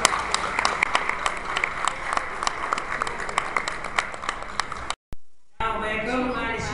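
Audience at a Somali graduation ceremony in Columbus, Ohio, applauding with many sharp, overlapping claps for about five seconds, followed by a brief dropout and then a voice speaking.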